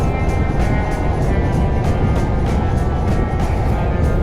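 A Kawasaki ZZR1200 motorcycle being ridden, giving a loud, steady engine drone mixed with heavy wind rush that holds constant throughout, with no talking.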